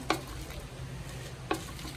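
Dry red chillies, coriander seeds, cumin and lentils roast in a dry pan, with two sharp scraping stirs about a second and a half apart over a soft, steady crackle.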